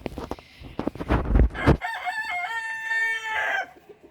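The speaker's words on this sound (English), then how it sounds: "let's just see how our new little hens are doing" Small young hens on a farm, cackling in a drawn-out, wavering call after a brief burst of rustling and scuffling, close and clear.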